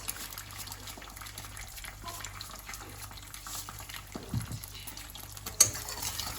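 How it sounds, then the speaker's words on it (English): Scrambled eggs are stirred in a pan: quiet, soft scraping and gentle liquid shuffling, with a couple of sharper knocks near the end. "Going to give it a nice stir there"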